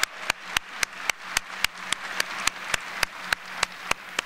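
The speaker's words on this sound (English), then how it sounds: "Can we all give them a round of applause?" Audience applause at a high school Black History program assembly, sustained clapping from a crowd underneath a sharp, regular series of loud clicks, roughly one every quarter second, running the whole four seconds.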